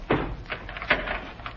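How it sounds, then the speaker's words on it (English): A door creaks open in a 1938 radio drama, a sound effect made of a couple of soft knocks and scrapes without voices, close and fairly quiet. "Ivan, open the door."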